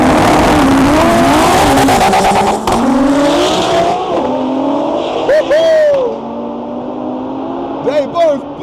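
A 1,308 hp 2JZ-powered four-wheel-drive quattro Audi drag races, engines roaring and tires chirping up close, with shouting voices and a commentator talking over the noise as it fades into the distance.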